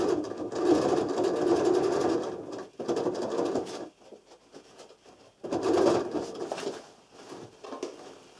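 A sewing machine stitching a few millimetres from the edge of a homemade travel bag, running in steady close bursts with short pauses between runs.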